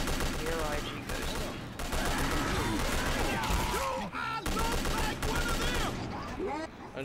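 Rapid gunfire bursts from Left 4 Dead 2 during the Crash Course campaign, loud and sustained with game sound effects and voices layered in, briefly dipping near the middle.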